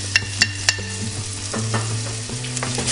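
Minced garlic and shallots sizzle in a pan over medium-high heat as they are stirred. Three quick utensil clicks open the clip, followed by a steady, close frying hiss.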